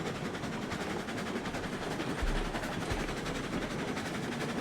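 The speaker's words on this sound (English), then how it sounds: "Ruby Basin operations wise, I still just think is one of the better locomotives." A locomotive runs steadily on rails in RailRoads Online, giving a continuous rolling rumble with faint rhythmic clatter and a brief low surge midway, with no voices.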